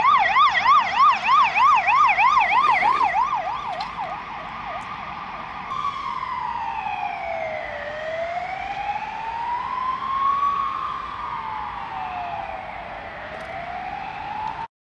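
An ambulance siren sounds loud and close, starting with a rapid warbling yelp and then switching to slow rising and falling wails that continue to the end, with no voices.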